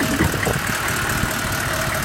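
A 1994 GMC K2500HD Suburban with a 6.5 turbo diesel idles steadily with the hood open, a loud, even clattering rumble.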